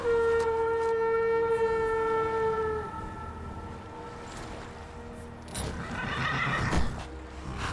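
In the video game Skyrim, a horse gives a long, loud whinny that fades out, followed by rustling and a few softer snorts and movements.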